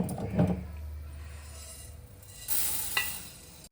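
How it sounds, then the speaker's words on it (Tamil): Dried red chillies dry roasting in a pan for Ramassery idli podi, giving a dry rustling scrape with a lower thud early on and a brighter hissing sweep toward the end, close and moderately loud without voices. "இப்போ மிளகாயை போட்டு வறுத்துக்கலாம்."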